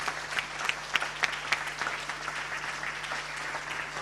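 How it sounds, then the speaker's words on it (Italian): Audience applause at a Veneto Paralympic sports gala in honor of an athlete, a steady patter of clapping with a few sharper individual claps standing out, moderately distant in a large hall, no talking. "un grande applauso per Roberto Casarin di Aspea Padova Onlus"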